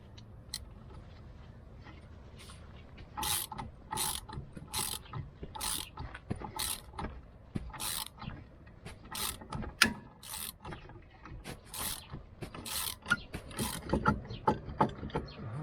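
A screw goes in by hand during rear brake disc installation on a 2010 Lexus RX450h, a run of close, sharp ratcheting clicks in quick repeated bursts with small mechanical rubs between them and no talk.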